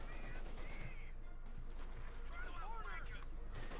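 Heavy machine gun barrage from the 5th Cavalry in Company of Heroes 2, a dense rattle of rapid shots under a steady battle roar, with a commentator talking over it throughout.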